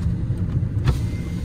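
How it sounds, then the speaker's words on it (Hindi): A Mahindra Scorpio N 4x4 driving through mud and drain water, its engine a steady close rumble with a brief surge partway through. "उस मड के अंदर मैं गाड़ी चला रहा हूँ"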